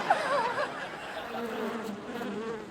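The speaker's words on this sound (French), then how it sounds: "Il y a des abeilles dans ce machin." Bees buzz inside a beehive, a steady droning hum that stays loud and close throughout, with brief laughter-like voices rising over it at the start.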